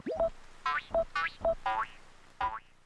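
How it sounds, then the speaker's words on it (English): Gyroid figures in the Animal Crossing video game make musical noises: a quick sequence of springy, bouncing tones and short plinks in an uneven rhythm, clear and close with no talk. "Gyroids are mysterious little figures that can make musical noises."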